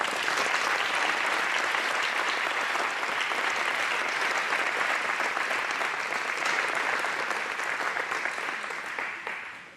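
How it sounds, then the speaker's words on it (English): Sustained applause from a large audience, dense steady clapping that holds for several seconds before beginning to fade. "Let's give them a round of applause."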